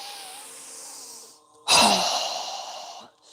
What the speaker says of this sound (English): exhale with a strong breath through our mouth as we quickly lower our arms and hands down